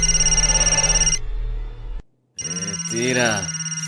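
A telephone rings during a Telugu film scene: an electronic ring sounds loudly, cuts off, then resumes after a brief silence.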